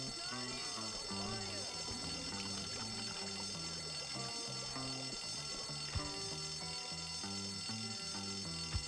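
A fire alarm in the video game Bully rings on continuously at moderate loudness, mixed with steady background music, with a faint voice beneath it.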